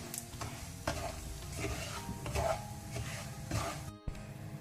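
Semolina frying with green chillies in a pan, a steady soft sizzle with repeated scraping stirs of a spoon, close and moderately quiet, with no talking.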